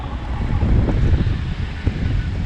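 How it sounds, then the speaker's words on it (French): Strong mountain wind gusts across the Col du Galibier in the high mountains, a steady low roar with buffeting surges on the microphone, rising and falling over a couple of seconds with no voices. "aujourd'hui il y a quand même pas mal de vent"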